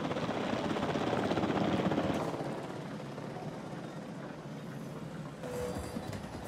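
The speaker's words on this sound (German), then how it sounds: "Das heißt, wir brauchen einen Helikopter." Helicopter rotor chop and turbine whine from the dinosaur park management game Jurassic World Evolution, steady and fairly loud, easing slightly after the first couple of seconds, with no talk.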